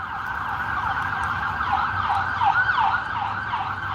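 An ambulance siren wails steadily from a distance, its tone sweeping up and down over low traffic rumble, fairly faint and continuous with no voices.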